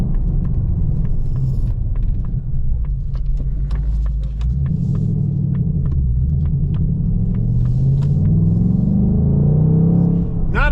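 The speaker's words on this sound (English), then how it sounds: "Give you that nice rev match, that nice boom." A deep 2025 Ford Mustang Dark Horse engine rumbles loudly and steadily, then rises into a booming rev-match blip near the end, heard close up with no talking.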